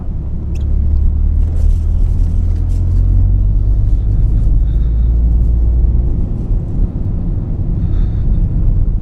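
A Toyota GR Corolla rumbles steadily up an unpaved dirt and gravel mountain road, with low engine drone and tyre roar heard from inside the car and faint ticks of gravel.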